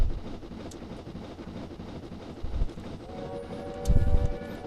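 Two-tone American-style train whistle in a train simulator game on the Bath to Templecombe line, a short steady horn chord rising late over continuous rolling locomotive and rail rumble.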